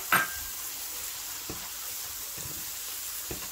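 Masala of garam masala powder and spices sizzling and being stir-fried in a pan for chana dal palak, a soft steady hiss with a few spoon scrapes and taps against the pan.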